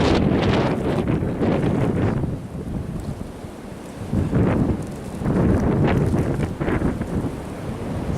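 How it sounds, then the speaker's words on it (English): Strong blizzard wind during a bomb cyclone in Connecticut roars and buffets the microphone in loud, surging gusts that rise and fall, with driving snow and no speech. "See the speed of the wind against this."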